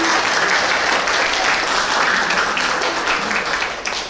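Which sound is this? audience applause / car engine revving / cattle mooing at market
audience applause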